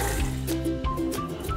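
Fresh water poured or filling a pot for boiling flower crab, a close, gurgling liquid sound with bubbly, burbling pitch changes over a brief moment.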